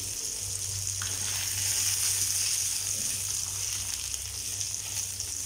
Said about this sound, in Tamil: ஸோ 2 சைடும் இந்த மாதிரி மாற்றி போட்டு நல்லா ஃபிஷ் நல்லா ஃப்ரை ஆகிற வரைக்கும் நல்லா குக் பண்ணிக்கோங்க